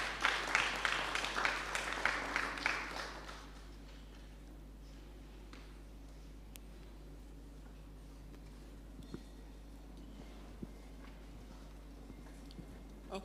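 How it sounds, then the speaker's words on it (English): A conference audience at a national maternal, infant and young child nutrition symposium gives a short round of applause that fades out after about three seconds, leaving a quiet room with faint scattered clicks and a low steady hum. "Round of applause."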